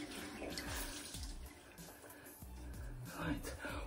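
Water runs steadily from a tap while a clay face mask is washed off, a continuous close splashing rush with shifting gurgles, and a voice speaks over it at times.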